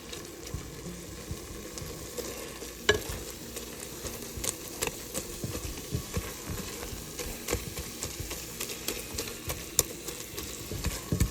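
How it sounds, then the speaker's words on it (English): Onions frying over medium-high heat in a pressure cooker are stirred and pressed with a spatula, a quiet steady sizzle broken by soft scraping taps and clicks at an irregular pace. "I'm gently pressing it down so these onions are getting mashed."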